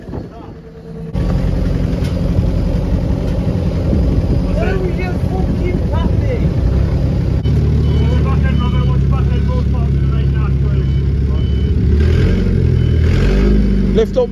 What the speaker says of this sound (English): Wait, stop revving that.